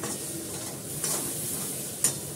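Food is stirred and fried in a pan, with a steady low sizzle and a couple of soft utensil scrapes against the metal, close and fairly quiet.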